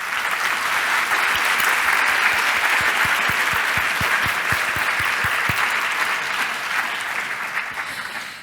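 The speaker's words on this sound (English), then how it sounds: "I'd also like to ask you to give a warm round of applause" A warm round of applause from a summit audience at a closing session, many hands clapping in a sustained, even roar that holds for several seconds before gradually tapering off at the end.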